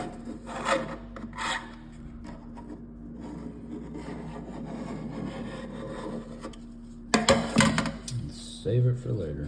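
A knife blade scraping excess pipe dope off a garbage disposal fitting, a steady rasping rub repeated close up, with louder clattering handling noises near the end.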